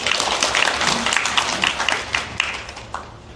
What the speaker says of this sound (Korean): 그 박수로 맞이해 주시기 바랍니다.